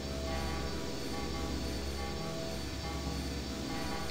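A low, steady engine hum rumbling continuously in the horror adventure game I Have No Mouth And I Must Scream, droning with an even, unchanging tone and no voices.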